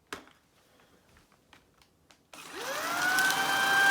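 A Shark cordless vacuum cleaner with anti hair wrap technology switches on after a few quiet clicks and handling knocks, its motor whining up to a loud, steady high-pitched whir that holds to the end.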